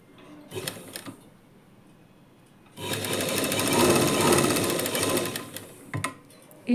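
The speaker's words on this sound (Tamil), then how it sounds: "இன்னொரு தையல் போட்டு எடுத்துக்கோங்க." A sewing machine stitches the lining of a blouse in one loud, continuous run of rapid needle strokes, bracketed by brief handling clicks and quiet moments before and after.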